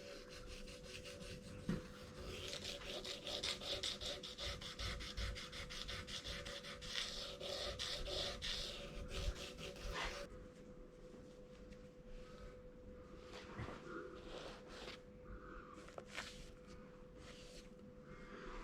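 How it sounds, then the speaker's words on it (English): Wet and dry sandpaper rubbed back and forth over a Holden HT Monaro tail light, a steady close rasping scrub that fades to quieter, intermittent strokes partway through. "give that a bit of a rub with some wet and dry just to help it etch into the paint"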